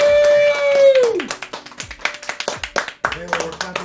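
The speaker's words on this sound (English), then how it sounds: "Taylor, we're clapping for you." Dinner guests clapping after an evening meal: a quick series of light, irregular claps from a small group, close by, following a sung or spoken note at the start, with voices around them.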